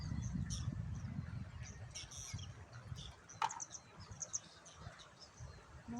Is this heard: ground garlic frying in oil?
no